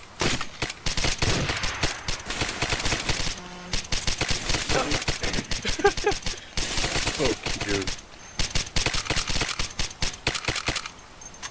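A squad opens up with sustained automatic gunfire in Arma 2, heavy overlapping rattling volleys with a couple of short pauses, loud and close, while voices call out between and over the shots.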